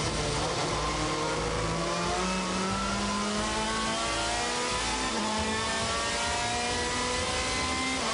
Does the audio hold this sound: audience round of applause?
no